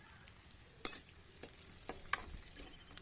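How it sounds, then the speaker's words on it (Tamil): Curry leaves frying in a pan for a country chicken curry, a soft sizzle under a few sharp spatula scrapes and stirs, quiet and close. "இப்போது நம்ம வந்து கருவேப்பிலை சேர்த்துக்கலாம்"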